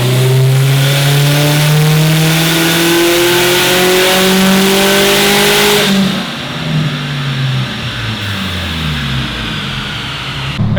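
A tuned Subaru STi revs hard on a chassis dyno, the engine note climbing steadily through a loud full-throttle pull for about six seconds, then dropping off as it winds down with lingering mechanical rumble.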